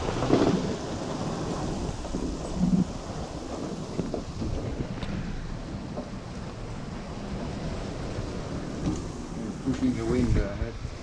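Rain sweeps over a sailboat on the open Atlantic during a crossing, a dense hiss mixed with gusty wind buffeting the microphone and low rumbles. Faint voices come through now and then.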